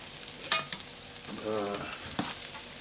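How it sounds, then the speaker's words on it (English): Onions and sweet peppers sizzle in a hot pan beside a thick steak seasoned with hot pepper, with a soft frying hiss, a few sharp clinks and a louder burst of crackle near the middle of the short stretch. "these onions and sweet peppers in there"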